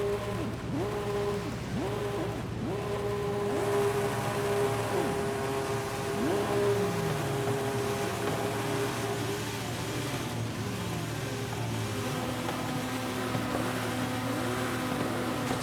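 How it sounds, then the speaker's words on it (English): Several JDM cars in the racing game Forza Horizon 5 rev their engines together, producing layered, wavering engine whines that rise and fall repeatedly over a steady idling drone, loud and continuous throughout. "Rev your engines, everybody."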